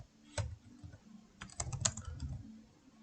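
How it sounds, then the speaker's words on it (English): Typing a command on a computer keyboard in a terminal: a single keystroke, then a quick cluster of several clicks, close and quiet with no talking. "let's go back to our terminal and type pip"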